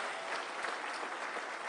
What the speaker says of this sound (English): To our President, a round of applause kindly